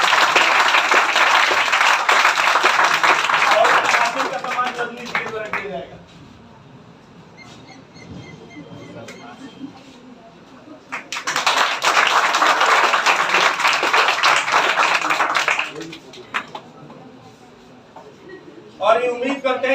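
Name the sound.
applause for a topper at an award ceremony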